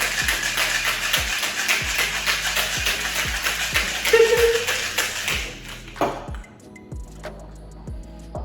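Cocktail shaker rattling with ice, shaking raspberry vodka, peach schnapps and sweet and sour mix for a martini, a steady rapid rhythm up close that stops partway through, followed by a few faint clinks.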